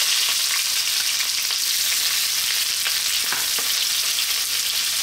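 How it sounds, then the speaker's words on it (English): Chopped onion dropped into hot sunflower oil in a wok over fairly high heat, sizzling and crackling loudly and steadily, with a few sharper pops and spits, close up and with no voices. "We're going to drop in our onion."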